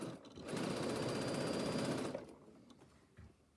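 A sewing machine runs a fast, loud burst of stitching while back tacking over a bag handle, then stops, leaving quiet handling noises.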